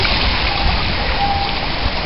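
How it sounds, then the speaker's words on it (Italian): Heavy storm rain pours down on the road during a mountain-bike outing, a dense, loud, steady roar of falling water with no other sounds above it. "Arriva la pioggia."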